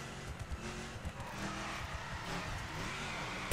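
A Dodge Charger muscle car in The Crew Wild Run video game drifts sideways, with steady engine roar and tire noise running throughout at a fairly constant level, without talk.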